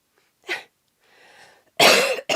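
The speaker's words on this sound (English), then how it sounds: "I am so sorry for the coughs" A woman gives a sharp single cough, then a soft breathy rasp, followed by a loud, longer coughing fit with a brief final burst, close and alone with no talk.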